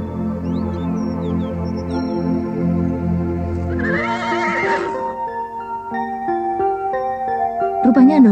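A horse gives a loud, shrill whinny midway through, a single long neigh rising over sustained tonal sounds in a 1990 Indonesian film, with more tones following afterward.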